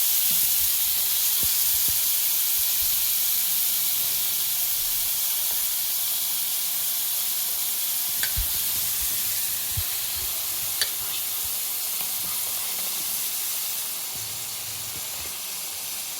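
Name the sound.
clams (kalwa) added to frying masala, sizzling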